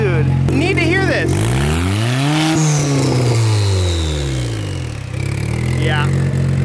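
Twin-turbo Honda Civic engine revving loudly outside, close up, its pitch swelling and falling through several rev sweeps while people talk and shout over the roar.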